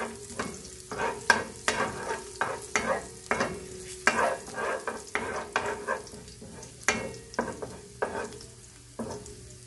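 Garlic sautéing and being stirred in a pan for a chicken dish with soy sauce, with repeated sharp utensil scrapes and clacks in an uneven rhythm over a steady low sizzle, close and fairly loud, with no talking.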